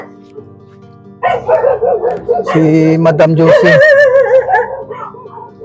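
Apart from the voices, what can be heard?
dog barking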